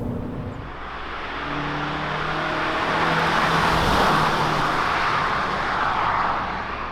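A 2019 Kia Cadenza under way with its engine running, giving a steady broadband road and engine hum with a gentle swell midway through, no voices over it.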